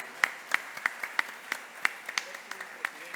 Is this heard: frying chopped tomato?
no